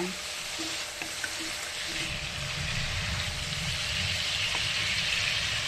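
Bhola fish sautéed in spiced oil makes a continuous close sizzle that swells slightly louder over the seconds, with a few soft clinks early on and no talking.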